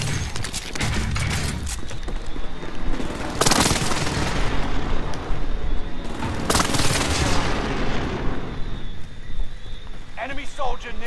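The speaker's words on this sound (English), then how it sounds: "Enemy precision airstrike." A precision airstrike in Call of Duty: Modern Warfare, with two heavy booming blasts a few seconds apart over rattling gunfire and game noise. Voices talk throughout.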